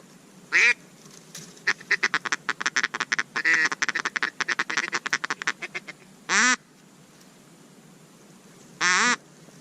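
Ducks quack during a duck hunt. Long rapid runs of loud, close quacks alternate with a few separate drawn-out calls over a steady background hiss.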